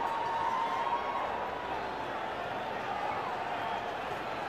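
Cricket stadium crowd roaring in a dense, steady wash of cheering and noise after Yuvraj Singh hits consecutive sixes, loud and sustained throughout with no clear individual voices.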